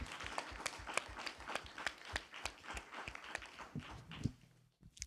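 An audience at a seminar round table applauds with a steady flurry of sharp handclaps, fairly faint and distant, then thins out and dies away at the end.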